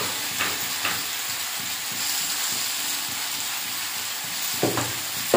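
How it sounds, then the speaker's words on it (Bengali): Ridge gourd and potato sizzle in a pan as they are sautéed with spices, a soft continuous frying hiss with occasional stirring scrapes and clicks, no talk. "এবারে ভালো করে কষে নেব ঝিঙ্গে আলু।"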